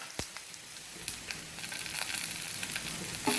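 Dried red chillies frying in oil in a pan: a steady, bright sizzle with a sharp click at the start, close and continuous, growing slightly louder toward the end.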